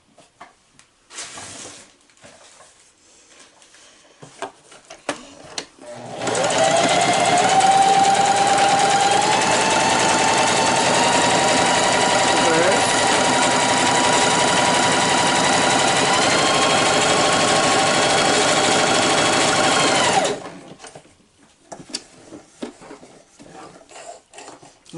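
A Singer 4423 sewing machine runs a straight stitch for about fourteen seconds, a loud steady mechanical whir that starts and stops abruptly, with quiet handling noises before and after.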